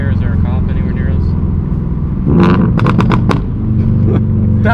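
Loud, sharp exhaust pops and crackles burst in a quick cluster from a Subaru BRZ fitted with a JDL UEL header, front pipe and Tomei 80R exhaust, over a low droning engine hum inside the car.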